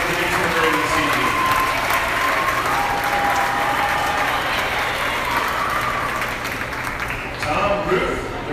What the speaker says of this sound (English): Let's give all these champion and reserve champion does a big round of applause